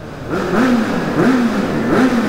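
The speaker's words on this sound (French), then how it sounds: "comme ça je peux entendre ma moto en stéréo" A nearby motorcycle engine revs up three times in a row, heard through an open helmet visor in the Vercors, each rise in pitch followed by a settling hum, loud and up close.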